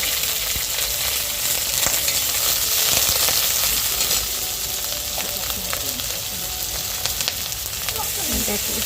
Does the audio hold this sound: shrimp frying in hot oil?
yes